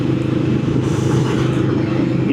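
Yamaha VMAX 1700 motorcycle riding along, a steady loud low engine rumble with road and wind noise throughout, no voices.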